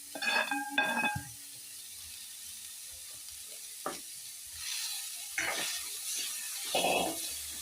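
Greens mallum hitting hot coconut oil in a pan, with clinking and stirring at first, then a soft steady sizzle of frying that swells in short bursts, with no talk.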